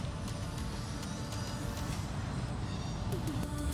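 Passing train heard during an enduro e-bike ride, a steady loud rumble with broadband roar and faint metallic squeal near the end, no voices.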